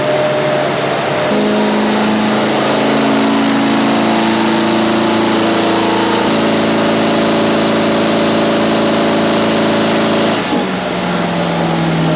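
A Chevrolet Corvette C5 on a dyno in 4th gear holds a loud, steady engine drone that climbs in pitch through the pull, then drops sharply as the throttle is released.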